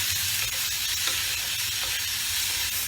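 Tomatoes frying with fish in a pan for a Bengali katla dish, a steady close sizzle with soft scraping stirs throughout, no voices.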